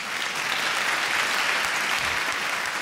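A concert audience gives a legendary singer a loud, continuous round of applause, dense and even throughout with no speech over it.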